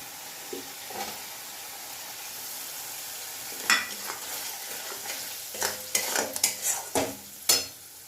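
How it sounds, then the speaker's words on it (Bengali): Chopped tomato is added to a frying pan and stirred with a utensil, giving a steady low sizzle with several scraping, clattering stirs toward the end, close by and without talking. "এবার দেখো টমেটো কুচিটা দিয়ে দিচ্ছি"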